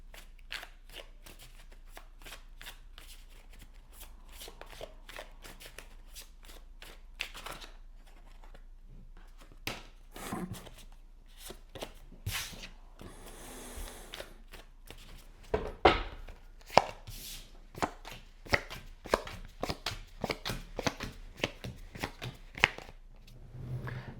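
A tarot deck being shuffled close up, with fast papery riffles and bursts of cards snapping together, some sharper flurries later on, over a quiet room.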